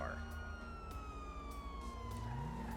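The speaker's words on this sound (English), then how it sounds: "turn on our lights and sirens here" A video game police car siren in LSPDFR wails, sweeping up and down over steady engine hum, loud and close, with a voice talking in the background.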